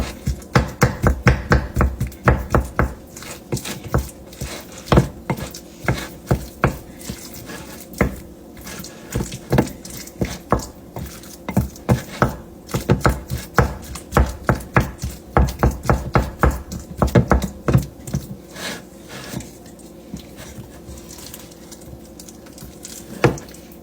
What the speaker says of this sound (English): now I'm going to give it a little mixeroni and see what I got